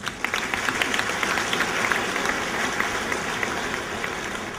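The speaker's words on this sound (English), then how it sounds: "Please join me to give them a round of applause." Guests at a district governor's banquet give a round of applause, a continuous, moderately loud patter of many hands clapping with occasional sharper individual claps standing out.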